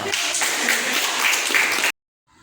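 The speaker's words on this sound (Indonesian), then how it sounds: "Kasih tepuk tangan untuk kita semua" A school class applauds during an innovative-teacher competition lesson on blood circulation, steady dense clapping from many hands that cuts off abruptly near the end, leaving near silence.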